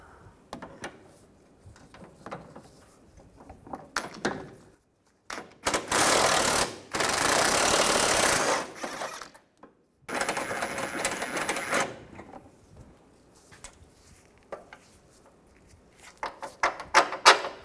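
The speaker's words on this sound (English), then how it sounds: "I'm gonna use an 18mm socket. Take this bolt out." An 18mm socket on a ratchet or impact tool working a bolt loose on a 2005-2010 Chevrolet Cobalt during clutch slave cylinder replacement, heard as two loud sustained buzzing bursts separated by silence, with clicks and clanks around them.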